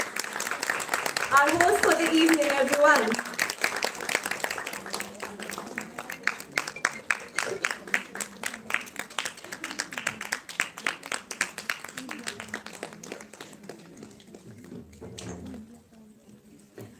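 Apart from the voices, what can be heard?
audience applause for Mrs. Deepika Bahari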